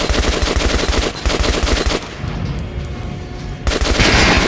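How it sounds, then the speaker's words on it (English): Rapid automatic gunfire at an armored practice dummy in the video game Metro Last Light, loud and rhythmic bursts with a short pause, then firing resumes. "Now shoot the armored dummy."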